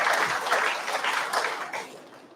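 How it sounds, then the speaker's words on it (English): A conference audience on traditional medicine gives a short round of applause, a dense, even wash of many hands that fades slightly toward the end and is heard without talk. "Let's make a round of applause."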